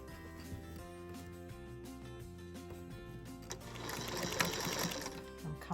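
A sewing machine stitching scalloped edge binding onto fabric runs in a steady, close whirring hum, speeding up and growing louder toward the end, with no talk.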